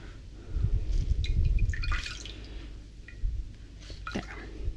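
Wet knitted fabric is squeezed firmly by hand, giving soft squishing and scattered drips and trickles of water, close and quiet with low handling rumbles.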